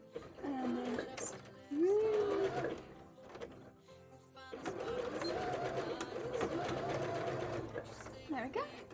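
A sewing machine stitches zigzags up the back of a handmade jellyfish bra, running in two steady stretches with a short pause between, while a bird coos nearby.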